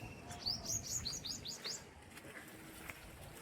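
A small bird chirps nearby in a quick run of high, bright tweets that fade after about two seconds, over a low steady background hum.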